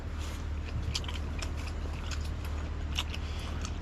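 Crunchy bites into the fin of a black sea bream eaten as raw fish: repeated sharp, close crackling crunches over a steady low background hum, with no talking.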